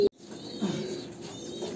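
A Kalanka pigeon of Andhra pure blood line gives a short, soft coo close by, alone after a brief click at the start.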